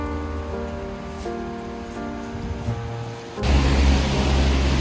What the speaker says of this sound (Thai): ฝนตกหนักมาก เดินฝ่าฝนนะคะ